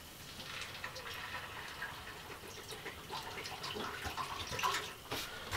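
Water pours from a container into a cooking pot at a cabin in winter, a soft, uneven splashing and trickling that swells slightly toward the end, close by and fairly quiet.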